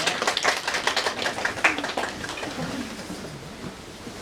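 A church congregation claps together, a brief patter of applause that thins out and fades over a few seconds.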